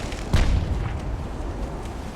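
A single deep boom from a warship's 10-inch guns in the Ultimate Admiral: Dreadnoughts naval game, a loud low blast followed by a rumbling decay, no talk.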